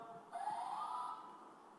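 Quiz buzzers at a corporate quiz final sound in a short electronic tone of about three-quarters of a second, fairly steady and moderately loud against a quiet room.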